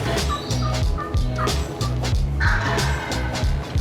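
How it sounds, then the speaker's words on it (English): Eastern wild turkey gobbler in Georgia timber gobbling repeatedly, loud rattling gobbles in rapid bursts close by, with no talk. "He was gobbling."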